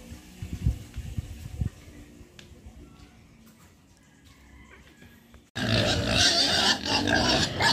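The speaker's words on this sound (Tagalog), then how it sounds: "Tayo po ay magpapakain na ng mga baboy." Pigs on a farm grunt and squeal at feeding time, loud and close at first. After a quieter stretch, a sudden loud rush of running water or feed pouring takes over.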